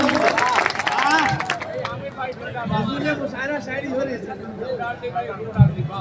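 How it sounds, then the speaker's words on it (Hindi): At a mushaira poetry gathering, a crowd's applause swells loudly at first, then fades into murmuring chatter and scattered voices, with a sharp knock near the end. "जोरदार तालियां बजाएं आप लोग एक मरतबा"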